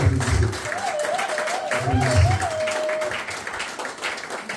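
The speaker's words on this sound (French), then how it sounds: "Applaudissez, applaudissez." Wedding reception guests applauding at an evening celebration, a steady dense wash of clapping filling the room for several seconds, with a wavering whistle-like tone riding over it, low thumping bursts, and voices mixed in.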